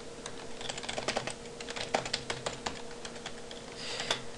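Fast, uneven typing on a computer keyboard, close and fairly quiet, with crisp key clicks continuing throughout and no voice.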